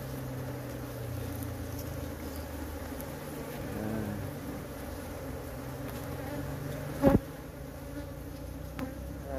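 A honeybee colony hums steadily, its buzzing swarming over a hive being split from one comb frame into two. A brief louder bump comes near the end, and no one speaks.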